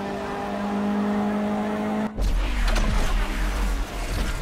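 A race car in the mobile game GT Racing 2 hums along at first, then bursts into a loud, close engine roar with tire squeal as it powers on at speed, with no talking.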